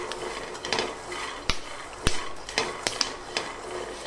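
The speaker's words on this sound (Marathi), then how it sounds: "मीडियमच फ्लेम ठेवायची गॅसची आणि शेंगदाणे हलवत राहायचे" Dry peanuts are stirred with a spatula in a pan over a medium gas flame while they roast for chutney, giving sharp scraping clinks and rattles at an irregular pace, close and moderately loud.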